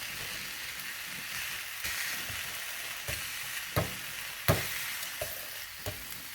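Pork chops fry in a hot pan with a steady broadband hiss, broken by a few sharp pops and crackles as the fat spatters, close and moderately loud with no talking.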